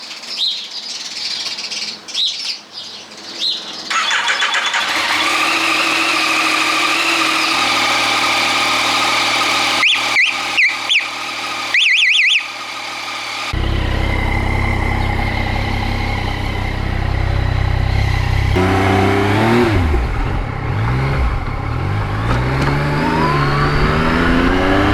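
A Yamaha MT-09 motorcycle starts up and idles, then blips and revs its engine in rising and falling sweeps, loud and close, with birds chirping faintly in the background.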